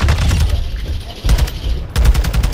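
Rapid automatic gunfire from a Call of Duty ranked match, close and loud, in clustered bursts with short pauses between them and no talk over them.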